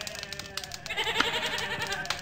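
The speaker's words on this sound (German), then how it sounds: "Ich werde mal die Position ändern, weil die Schafe und Ziegen mich da so ein bisschen nerven." Sheep and goats bleating in a video game, several overlapping calls in quick succession at moderate volume with no talk.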